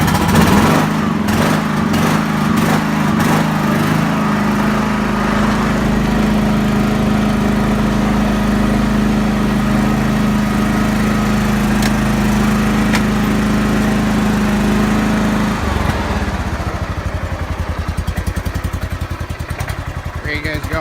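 A 1994 John Deere GT262 lawn tractor engine runs loud and close after a cold start, idling with a steady, buzzy drone. Its tone shifts and settles lower partway through.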